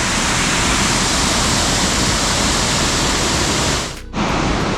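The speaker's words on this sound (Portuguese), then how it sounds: "Essa cachoeira aqui é a Cachoeira Sete Quedas." Cachoeira Sete Quedas, a waterfall in Sana, Macaé, roars as a loud, steady broadband rush. Near the end it drops briefly, as if muffled for a moment, then returns at full strength.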